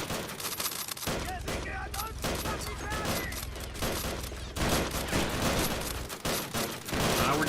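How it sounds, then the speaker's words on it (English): Massed rifle and machine-gun fire from a WWI-era battle in a strategy game rattles continuously in heavy overlapping volleys, with brief lulls and distant booms, while a voice talks over the din. "Come on, boys, keep that overwhelming fire."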